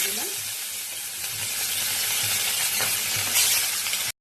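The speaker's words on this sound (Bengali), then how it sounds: "মাছটাকে এবার ভেজে নেবো এক এক করে।" Katla fish pieces fry in hot mustard oil in a heated kadai, giving a loud, steady, close sizzle throughout, with a few faint clinks.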